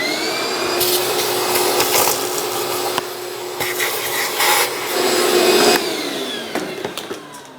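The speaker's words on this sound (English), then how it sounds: "I'm going to get a vacuum and vacuum all the leaves and all of the debris up" A vacuum cleaner sucks leaves and debris out of the engine bay of a 2013-2018 Hyundai Santa Fe 2.4L I4, a loud close whine with rattling crackles as bits are pulled through the nozzle, surging and dipping in pitch before winding down.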